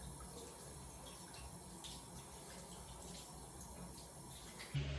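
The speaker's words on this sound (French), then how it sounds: "je vais vraiment rincer mon visage, mais avec de l'eau tiède" Lukewarm water runs from a tap and splashes softly while a face is rinsed, a faint steady wash of water with no voices.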